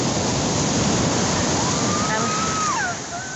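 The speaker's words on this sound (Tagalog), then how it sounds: "Ang lakas ng alon." Strong ocean waves roll and crash at Long Beach in Real, Quezon, a loud, steady broadband surf roar filling the clip, with a faint whistling tone drifting above it.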